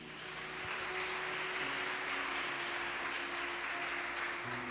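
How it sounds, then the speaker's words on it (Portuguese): A church congregation claps together, swelling quickly into a steady, dense wash of applause that holds evenly over a faint low hum, with no voices standing out. "Vamos aplaudi-lo por isso?"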